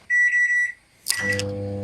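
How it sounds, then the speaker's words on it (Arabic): A microwave oven warming bread for thirty seconds gives a steady electronic beep that holds for about half a second, a short pause, then a sharp click as the door opens and a low hum starts. Nobody speaks. "هسخن العيش، هحطه 30 ثانيه بس في الميكرويف عشان ما ينشفش"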